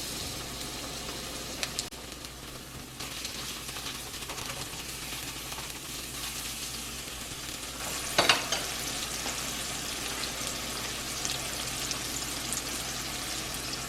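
Butter and garlic sizzling in organic olive oil in a pan, a steady close frying hiss throughout with a brief stir or clatter partway through and no voices.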